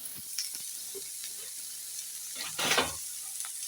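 Quiet sautéing in a pan for a green gram dish, with a low steady sizzle, a few light stirring scrapes and a louder clatter near the end.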